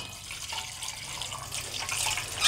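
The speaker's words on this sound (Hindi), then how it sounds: "अब इसमें डालेंगे पानी" Water pours into a cooking pot during tandoori chicken biryani preparation. A close, steady splashing trickle grows slightly louder toward the end.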